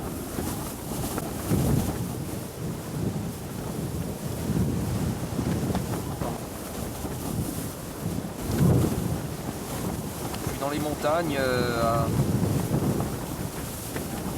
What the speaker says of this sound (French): le vent souffle fort là